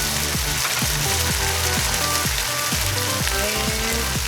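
A pepper mill grinding black pepper, a steady run of close, repeated ratcheting crunches in an even rhythm, with no talking.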